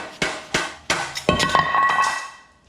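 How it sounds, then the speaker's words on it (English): A heavy motorcycle flywheel dropped onto a hard shop floor gives a few sharp metallic clanks about a third of a second apart, then a ringing clatter as it settles and fades. "don't drop your flywheel"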